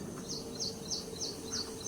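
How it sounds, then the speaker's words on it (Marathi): Repeated high chirps from birds in a garden, about five evenly spaced calls, over a steady low background hum; the birds sound moderately near. "आणि पक्ष्यांचा आवाज आहे किलबिलट आहे"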